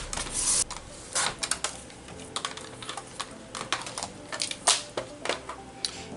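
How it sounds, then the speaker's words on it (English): Scissors cutting paper bag scraps into 3-inch pieces, a run of crisp snipping and crinkling bursts of uneven rhythm, close and fairly quiet, with no talking. "I'm going to cut 3 of these out at 3 inches."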